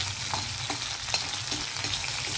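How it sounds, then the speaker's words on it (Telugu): Onions fry in a pan with a steady, close sizzle and crackle throughout, broken by a few light spatters and stirring taps. "వేగిన తర్వాత తీసేసి అప్పుడు ఉల్లిపాయలు వేపాలి."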